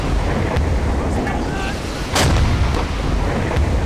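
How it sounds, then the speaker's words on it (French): A submarine deck gun fires at a ship in the naval video game Silent Hunter 5, several sharp booms spaced apart over wind and ocean waves, with someone talking. "le canon tire d'une manière beaucoup plus rapide"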